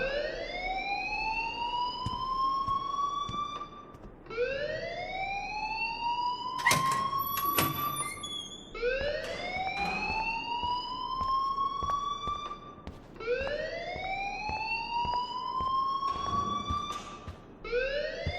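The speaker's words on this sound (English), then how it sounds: "please turn off that alarm since that's your job" A loud electronic fire alarm in the video game Life Is Strange wails in repeated rising sweeps, each about four seconds long, steady and continuous, with a few faint clicks between cycles.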